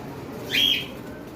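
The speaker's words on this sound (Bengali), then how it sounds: "এবারে আমরা দেখাবো কুনুর পাখি আপনারা দেখতে পাচ্ছেন কুনুর" A pair of caged conure parrots, sold at a bird seller's shop, gives a single short, bright chirp against a quiet background, with no one talking.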